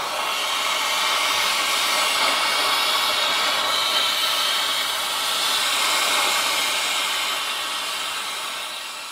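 A torch hisses and roars steadily at close range as it heats a stuck bedbolt on a 1964 Ford F250, holding a continuous broadband rush with slight swells in level.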